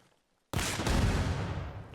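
Gunfire aimed at a destructible prop building in the video game Arma Reforger bursts in suddenly and loudly, a dense close volley of blasts that rolls on and decays without pause.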